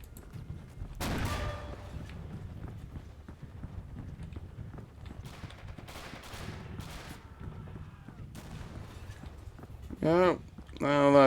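A World War I battle in a video game, with bursts of gunfire and grenade blasts going off at a distance while people talk over the action, ending in a few louder nearby shots.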